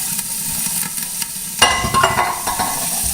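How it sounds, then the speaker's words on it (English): A can of milk is poured into a pot of soup. A quiet kitchen background gives way midway to a close, splashing, gurgling pour that runs to the end. "Pour 1 can of milk in here."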